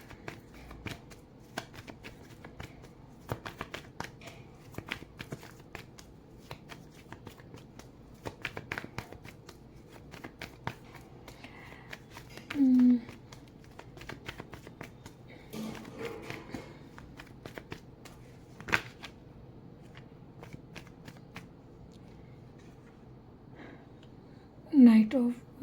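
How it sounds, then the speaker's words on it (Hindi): Tarot cards shuffled close by make a long run of soft, rapid riffling and flicking, with a few louder bursts and faint breaths or murmurs along the way. "वीडियो को कट करके शफल को अवॉइड कर सकते हैं"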